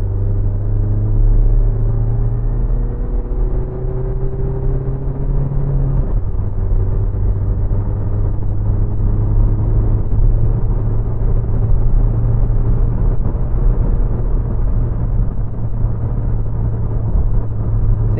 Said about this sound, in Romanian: Sunt în treapta a treia, o să încerc să mă duc spre 130-140 de km pe oră. Accelerez la podea.